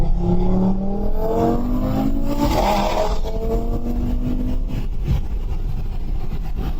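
A rebuilt Audi RS3 engine revs hard while being driven aggressively, its loud rising tone climbing through the gears with a shift around midway, heard close and alone without speech.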